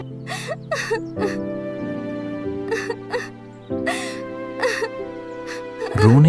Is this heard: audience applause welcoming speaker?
no